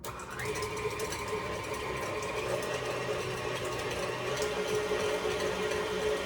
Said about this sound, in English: We're using a whisk attachment on our KitchenAid.